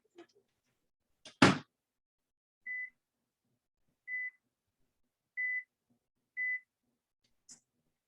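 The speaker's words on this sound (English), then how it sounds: "We're gonna put it in a regular microwave." A regular microwave oven heats a light, airy food foam: a door clunk, then four evenly spaced electronic beeps sound alone in a quiet kitchen, ending with a soft click.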